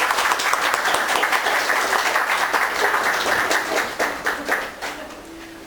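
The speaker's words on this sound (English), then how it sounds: "a wee round of applause for our first reader tonight, Mr. Bill McKnight." Live audience at a poetry reading gives a warm round of applause, steady dense clapping for several seconds that thins out and tapers near the end.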